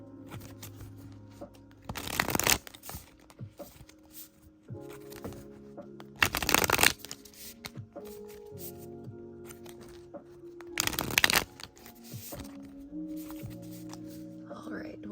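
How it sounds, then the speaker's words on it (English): Tarot cards being shuffled in three distinct riffling bursts, each lasting about half a second, with quieter card handling and soft background sounds between them. "let's go ahead and get a couple of tarot cards here"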